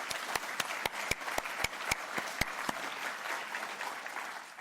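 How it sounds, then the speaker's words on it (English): Audience at a talk on memory and institutions gives the curatorial staff a round of applause: a few loud, distinct nearby claps ring out over dense crowd clapping, which carries on evenly and then begins to taper. "could you please give our wonderful curatorial staff a huge round of applause for the great work they do on our behalf."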